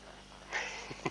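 A horse gives a brief, close, soft sniff at some signs, a quick airy intake lasting about a second.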